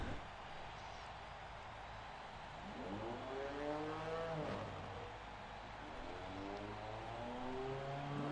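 Touring car engines rev on the starting grid at Mugello, several cars droning and climbing in pitch together, steady and moderately loud with no one speaking.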